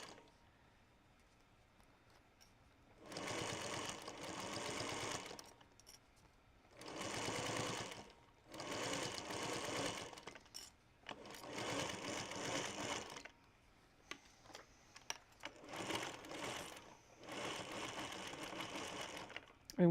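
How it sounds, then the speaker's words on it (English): A vintage Singer sewing machine back stitches on a bag in five or six separate bursts of steady whirring, each a couple of seconds long, with quiet gaps between them. "I'm going to back stitch on these to lock those stitches in"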